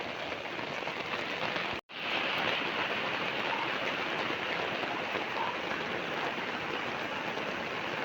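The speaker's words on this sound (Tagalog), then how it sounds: "Lalo pang lumakas yung ulan mga kami-malabs." Heavy rain pours down steadily at night, a dense, loud hiss of drops drumming on surfaces that briefly cuts out for an instant before resuming unbroken; no voices.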